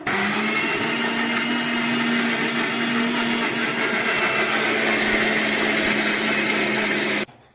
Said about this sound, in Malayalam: ഇനി നമുക്ക് ഏലക്കായയും ജീരകവും ഇതിക്ക് ഇട്ട് എന്നിട്ട് ഒന്ന് മിക്സിയിലൊന്ന് അടിച്ചെടുക്കാം